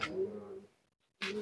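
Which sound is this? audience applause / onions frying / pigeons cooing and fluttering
pigeons cooing and fluttering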